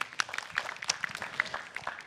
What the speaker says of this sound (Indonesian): Tepuk tangan untuk Rispo.